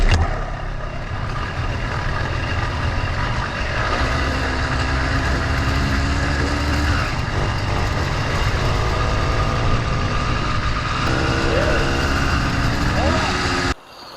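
A motorized bicycle engine with an iron sleeve, warm and started without choke, runs steadily with a low, continuous idling rumble close by for most of the stretch, then cuts off near the end.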